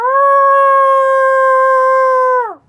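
A person imitating a wolf howl, one loud, sustained, steady tone held for over two seconds before dropping away abruptly at the end.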